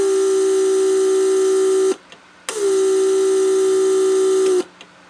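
Vacuum pump in a Mercedes S350 running to release the headrest locks: a steady electric hum that runs about two seconds, stops briefly, then runs again for about two seconds, loud and close with no talking.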